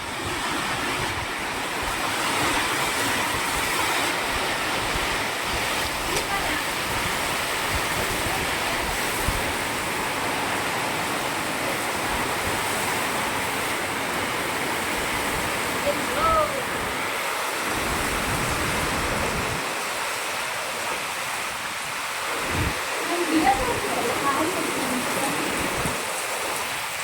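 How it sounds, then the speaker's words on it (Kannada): Heavy rain pours down with gusting wind, a loud, steady broadband hiss that runs almost unbroken for about half a minute and thins briefly in a few short dips near the end. "ಎಲ್ಲಿಂದ ಬಂದಿದ್ ಮಳೆ?"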